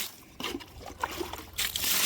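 Water pours and trickles into a concrete pillar being filled on a building plot, a steady broadband wash that swells louder near the end of the short stretch.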